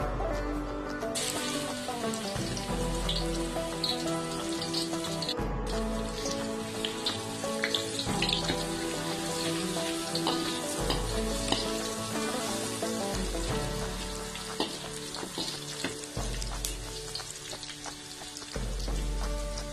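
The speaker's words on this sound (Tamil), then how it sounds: "எண்ணெய் சூடானதும் நான் பேஸ்டா இடிச்சு வச்சிருக்கிற உள்ளிய சேர்த்துக் கொள்கிறேன்" Garlic paste hits hot oil in a home kitchen pan and fries with a steady, dense crackle and spatter lasting throughout, fairly close and fairly loud, with no talking over it.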